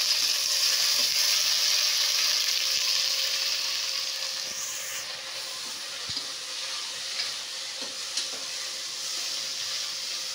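Vegetables sizzle in hot oil for vegetable rice, a steady broadband frying hiss that is loudest at first and then settles, with a few faint stirring clicks and no talking.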